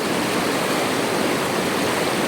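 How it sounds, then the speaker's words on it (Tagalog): A strong river current rushes loudly and steadily with a dense, unbroken roar close to the microphone. There is no talk. "Napakalakas po ang tubig dito sa parting ito"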